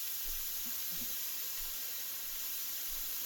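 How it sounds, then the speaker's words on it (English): Ground beef crumbled into a hot pan gives a steady, quiet hiss and sizzle throughout, with a couple of small pops near the start. "bring a pan up to temperature and crumble in your ground beef"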